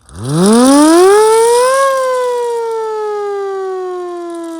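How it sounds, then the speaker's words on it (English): A loud hand-cranked siren from a siren collection winds up from a low growl to a steady wail, then slowly drops in pitch as it begins to wind down. "I will show you a test of the hand crank siren back when it worked"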